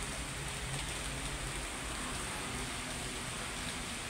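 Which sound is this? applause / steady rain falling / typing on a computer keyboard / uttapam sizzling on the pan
steady rain falling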